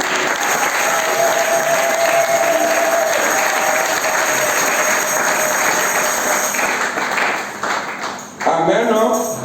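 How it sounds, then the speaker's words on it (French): A church congregation applauds at a wedding ceremony, a dense, sustained wash of clapping that holds steady for several seconds before tapering, with voices audible beneath and over it. "Acclamez le Seigneur."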